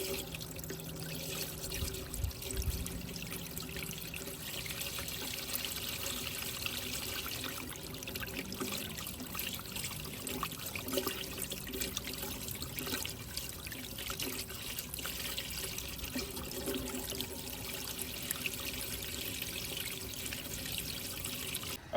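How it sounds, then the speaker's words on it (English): Water trickles and pours through rotated 45-degree PVC yard drainage fittings, a steady close gurgling flow with small splashes, running alone without speech. "we'll have the camera right here for you so you can see how that water flows through there"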